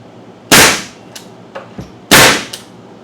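A Porter Cable DA250B pneumatic finish nailer dry firing with no nail loaded: two loud, sharp pneumatic snaps, each followed by a short hiss of air, with a few faint clicks of handling in between.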